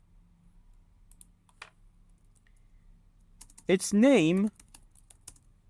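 Light, sparse clicking of computer keyboard keys, faint and intermittent, before a voice briefly speaks over it.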